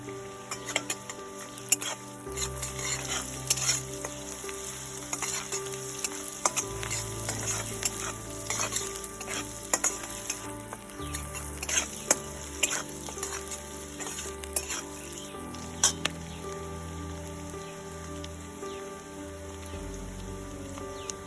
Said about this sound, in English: always need to put some salt while you saute your onion